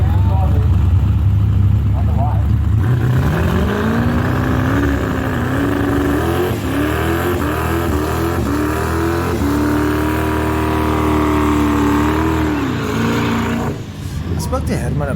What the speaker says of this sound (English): Let's watch some burnouts.